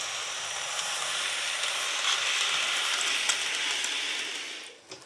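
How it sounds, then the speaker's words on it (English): A Dapol OO gauge model train with Toplight coaches reverses along the track, giving a steady close rolling rumble and rattle of small wheels on rail that holds even for several seconds, then fades away near the end. "I'll change the dynamic by reversing the train here."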